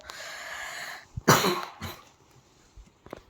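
A person with a cold lets out a single harsh cough after a steady background hum, followed by a shorter second cough and then near silence with faint clicks.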